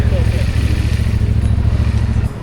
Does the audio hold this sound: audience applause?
no